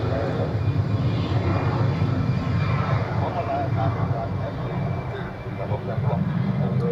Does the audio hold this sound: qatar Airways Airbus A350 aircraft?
yes